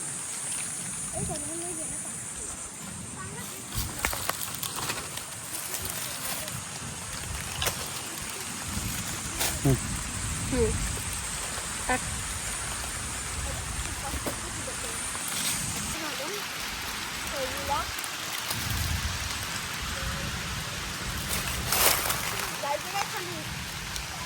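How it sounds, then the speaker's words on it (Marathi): Sudden rain falls outdoors in the countryside during a storm while people gather mangoes, a steady wash of hiss with scattered drop patters as people talk throughout. "पाऊस चालू झाला एकदम."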